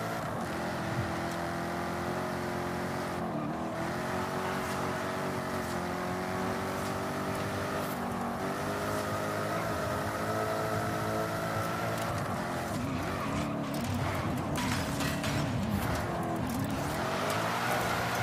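A Jaguar XKR-S GT engine in Forza Horizon 5 roars loud and close, holding a sustained high-revving howl with pitch rising and falling through gear shifts, and no talk over it.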